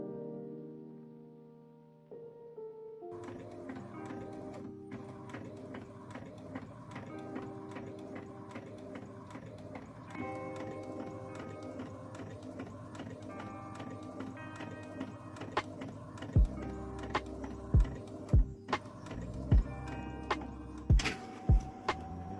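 A Cricut Explore 3 cutting machine running after starting up, a steady mechanical hum layered with rapid rhythmic ticking and clicking carriage movements, ending in a series of loud sharp clacks at regular intervals.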